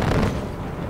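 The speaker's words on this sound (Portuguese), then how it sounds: "vai cair aqui o tiro do morteiro" A mortar shell bursts in Far Cry 4 with a short, heavy, rumbling boom that lingers briefly, close and loud with no talk over it.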